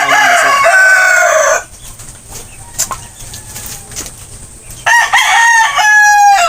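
A competition rooster crows loudly and close by, with a pause partway through. A second crow follows, and bursts of clucking and possible wing flaps come in between.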